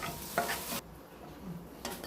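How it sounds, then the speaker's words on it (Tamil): Cashews frying in ghee in a kadai give off a bright, crackling sizzle that is loud for under a second, drops to a quieter simmer, then flares up again near the end, with no voices. "ஒரு கடாயில் நெய் ஊற்றி முந்திரியை கொட்டி வறுத்து எடுத்துக்கலாம்."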